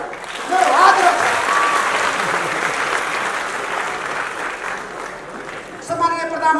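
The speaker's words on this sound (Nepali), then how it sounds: "हामी सबैले सम्माननीय प्रधानमन्त्री केपी शर्मा ओलीलाई ताली बजाएर अभिनन्दन गरौँ" An audience bursts into loud, sustained applause for Prime Minister KP Sharma Oli, a dense crowd of clapping that swells and then eases, with a voice over a loudspeaker returning at the very end.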